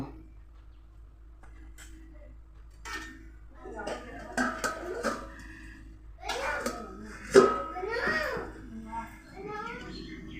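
Clattering of a spoon against a cooking pot as dried-fish (shutki) curry with potatoes, vegetable stems and jackfruit seeds is stirred and lidded, with a sharp metallic knock near the end, heard under a voice and other talk.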